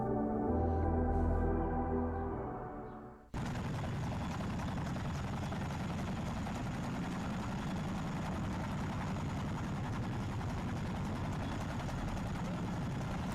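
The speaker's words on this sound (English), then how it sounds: "I love how a Chinook just lands like that on the side of a hill sometimes." A Chinook helicopter lands on a hillside, its heavy rotor roar rising as a continuous, loud, broadband thrum after a brief unrelated opening sound, steady to the end.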